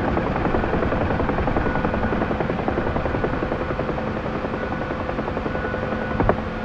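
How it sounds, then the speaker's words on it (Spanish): UH-1H Huey helicopter rotor in DCS World, a loud, steady rhythmic chopping blade thump over a constant turbine drone throughout, with a small knock near the end. "Muy bien, vamos a apagar el helicóptero."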